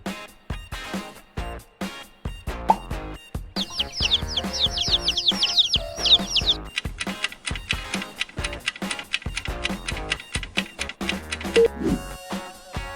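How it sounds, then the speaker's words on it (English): A chicken clucks in a quick, busy run of short calls, with a burst of rapid high chirps in the middle, laid over a rhythmic musical backing at moderate volume. "Chick."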